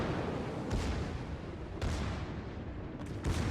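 Naval gunfire in World of Warships, with the Scharnhorst battleship firing salvos: repeated heavy booms at intervals over a constant dense rumble of battle noise.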